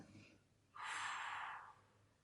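During an abdominal strengthening exercise, a single slow exhale through the mouth follows a faint breath, close to the microphone and quiet, with no talking.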